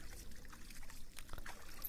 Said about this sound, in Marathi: याच्या खालूनच असा पाणी असा झिरपून येत आहे